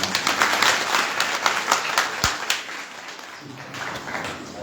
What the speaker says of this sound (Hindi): जरा ताली चाहता हूँ